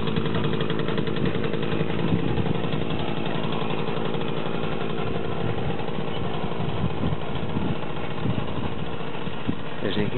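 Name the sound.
Romet Pony moped engine running in first gear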